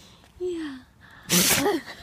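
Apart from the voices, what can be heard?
dog sneezing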